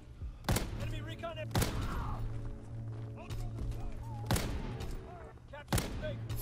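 Sniper rifle shots ring out in a game match featuring the PTRS-41 anti-tank rifle, with four sharp, loud cracks spaced irregularly over a steady bed of battlefield noise and distant gunfire.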